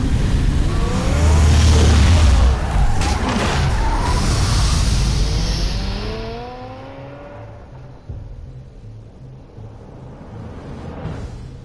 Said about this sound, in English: Did you like the sound of that engine, did you?